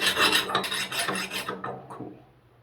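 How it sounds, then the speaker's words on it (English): A file is drawn across a metal Bowie knife guard face to take off a burr: four or five close, gritty rasping strokes, then it stops and goes quiet. "Let me get a little bit of burr off of this one."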